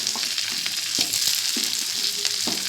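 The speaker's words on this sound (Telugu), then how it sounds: "తర్వాత ఆనియన్స్ వేసుకుందాం." Onions sizzle and fry steadily in a pan of oil for buttermilk stew made with drumstick leaves, a continuous close hiss broken by a few short stirring scrapes, with no talking.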